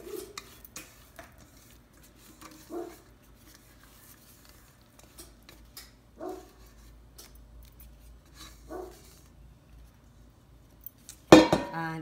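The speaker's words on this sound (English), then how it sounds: "Now I have to empty this into the pan. I'll switch to a spatula." Cornbread batter scraped from a bowl into a pan with a spatula, a series of spaced scrapes and soft clinks against the dish, ending in a louder metallic clatter, with no talking.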